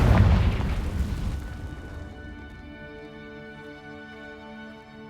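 Confringo blasting spell explosion in Hogwarts Legacy: a single loud, deep boom that bursts open at once, then thins into a long ringing tonal decay over several seconds, with no voices.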